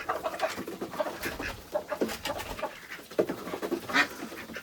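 Chickens in a coop at feeding time cluck and squawk in a busy, overlapping chorus, with close calls rising and falling throughout.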